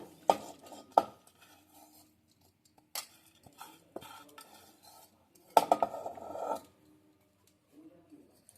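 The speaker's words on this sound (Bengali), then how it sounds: "এবার আমি ধোয়া এই জিনিসগুলো প্রেসার কুকারের মধ্যে নিয়ে নিচ্ছি সিদ্ধ করার জন্য" Washed dal and sago go into a pressure cooker, producing scattered metallic clinks and taps with a louder clattering burst midway, separated by quiet gaps.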